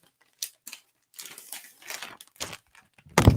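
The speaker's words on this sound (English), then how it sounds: "Excuse me while I make loud rustling noises." Loud crinkling and crumpling rustles, like plastic packaging or paper being handled, come in irregular close bursts with short pauses and finish on a sharp, loud crunch.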